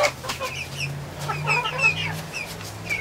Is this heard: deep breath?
no